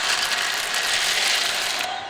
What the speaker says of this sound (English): It sounds like cracking. And it sounds like crunching.